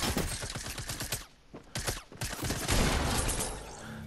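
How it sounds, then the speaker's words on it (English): Rapid bursts of submachine gun fire in a video game shooter, loud and close, with a short lull midway before dense firing resumes. "Even though I'm using a gray submachine gun."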